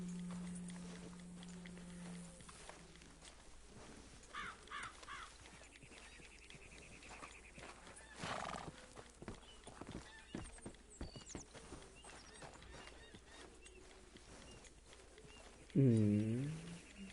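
Horses in the Red Dead Redemption 2 video game: a loud close whinny near the end, with intermittent hoof clops and game ambience throughout and a sustained tone early on.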